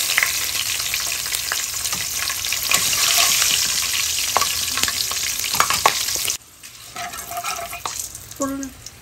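Fennel seeds, a bay leaf and green chilies sizzle in hot oil for a Bengali fish curry, a loud, bright crackling fry with stirring scrapes that drops abruptly to a quieter sizzle near the end.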